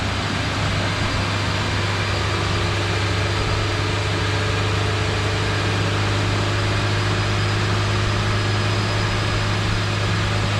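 A Mitsubishi Evo X MR with a Magnaflow exhaust runs on a dyno, giving a loud, steady engine drone with a strong low hum that stays constant throughout.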